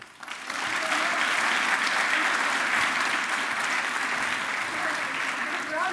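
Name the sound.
applause for Alderman Kapteins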